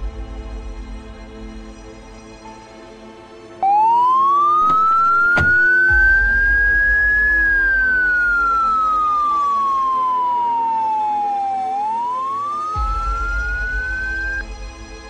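Vehicle siren in the zombie survival game Project Zomboid, a loud rising and falling wail that sweeps up, slowly drops, then climbs again over a steady engine hum, alone with no talk.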